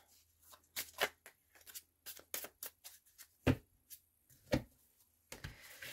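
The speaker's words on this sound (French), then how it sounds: "Les cartes sautent, et que des cartes d'amour, hein." Tarot cards shuffled by hand in a series of quick riffling bursts and slaps, some cards flicking loose, close and fairly soft with brief pauses between.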